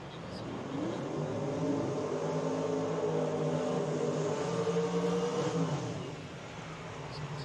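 Drag racing cars, including a 1970 Pontiac GTO, do burnouts at a drag strip, with loud sustained engine roar and whining tire spin rising and fading over several seconds.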